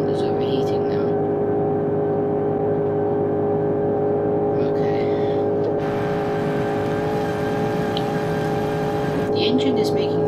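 In BeamNG.drive, a car engine with overheating coolant gives off a steady, loud droning hum with a strange tonal whine. It runs continuously while a voice talks quietly over it.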